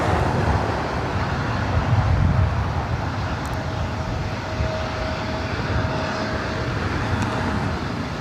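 Air Canada airliner landing on runway 24 right at LAX, a steady broad roar of jet engines and rushing air holding evenly throughout, loud and fairly near with a faint thin whine running underneath.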